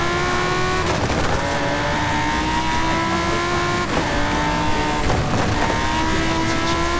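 A Lamborghini Huracán Super Trofeo Evo race car in Forza Horizon 5 sounds a loud, sustained exhaust note that rises and falls through gear changes, with brief tire squeal.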